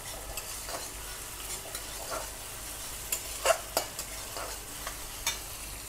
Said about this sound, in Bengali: এবার দিয়ে দেবো অল্প একটু আদা রসুন বাটা, দিয়ে তাকে একটু নাড়বো।